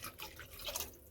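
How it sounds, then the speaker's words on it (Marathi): Water is poured into a simmering tomato curry, giving a brief, close splashing gurgle of liquid hitting the pan. "पाणी टाकूया।"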